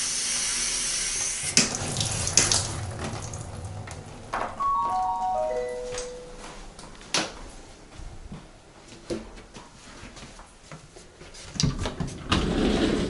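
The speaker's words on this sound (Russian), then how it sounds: "А это переключение воды на душ и кран." Water runs from a tap and shower switch in a rented apartment in Japan, a steady broadband rush with a few clunks of the control being switched partway through.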